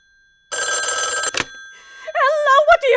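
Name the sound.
telephone bell ringing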